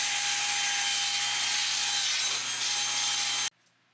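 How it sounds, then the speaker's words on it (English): A jigsaw cuts a heater vent port in wood with a close, loud, steady rasping buzz that stops abruptly near the end, leaving quiet room tone. "I'm using a jigsaw to cut out that heater vent port"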